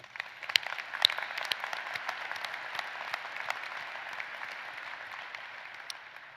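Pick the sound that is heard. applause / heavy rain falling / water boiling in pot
applause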